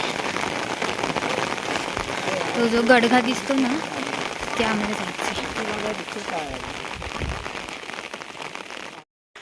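Rain falls steadily outdoors at a cashew plantation, a constant patter running through the whole stretch while people talk over it nearby.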